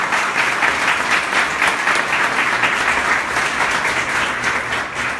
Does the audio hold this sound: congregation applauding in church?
yes